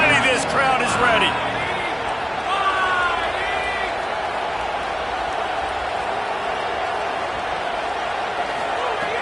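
Football stadium crowd cheering loudly during a big third down in an Ole Miss-style "hotty-toddy" atmosphere, a dense continuous roar filling the stands, with a commentator talking over it.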